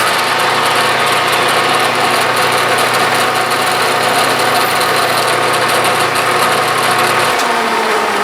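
A drill bores a hole in metal while making a Starrett indicator tip holder. A loud, continuous, close motor whine holds steady, then the low drone drops away near the end, with no talk.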